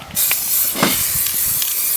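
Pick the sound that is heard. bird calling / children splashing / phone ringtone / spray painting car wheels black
spray painting car wheels black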